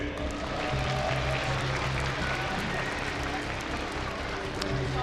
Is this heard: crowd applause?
yes